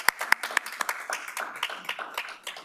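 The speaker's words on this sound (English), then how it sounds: "please join me in a round of applause for these phenomenal candidates" Audience applause for city council candidates at a Rancho Palos Verdes candidates forum, a thin scattering of claps with a few sharp close hand claps early, fading into a soft patter of moderate, indoor clapping.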